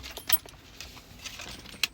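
Keys for a 2017 Ford Ranger 3.2 TDCI Wildtrak automatic clink and jangle in the hand, with a few brief metallic rattles up close and quiet handling noise between them.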